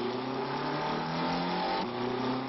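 Car engine revving high at about 6000 rpm in a 1973 Bosch spark plug advert, a loud sustained whine holding steady throughout without speech.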